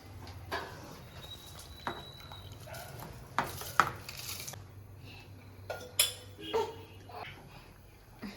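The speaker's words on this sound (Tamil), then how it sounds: "இப்போ 2 கிண்டிட்டு குக்கரை போட்ட மூடிடலாம்." Rice stirred in a pot for chicken biryani in a village kitchen, before the pressure cooker is closed: sparse metallic scrapes and clinks of a utensil against the pot, spaced irregularly over a low background hum.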